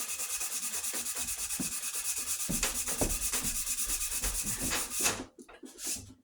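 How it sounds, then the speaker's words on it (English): A detail sander works steadily against a wooden axe handle, a continuous rubbing, buzzing abrasion that holds for about five seconds before cutting off abruptly, followed by brief quieter scraping. No one speaks. "we can really go at it with this detail sander"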